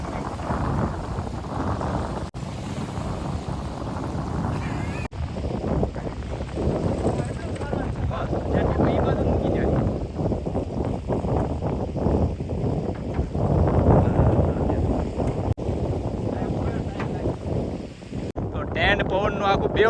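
Strong wind blows across a lakeside island campsite, roaring steadily into the microphone and buffeting a tent in loud, continuous gusts.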